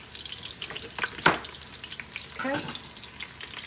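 Lentil soup sizzles and bubbles in a pot, a soft crackling frying sound with a sharp clatter and a brief stirring scrape; a voice says one short word.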